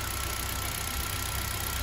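A Kia All New Picanto engine idles steadily while warming up, a constant low even hum with no revving, heard close and alone for the whole stretch.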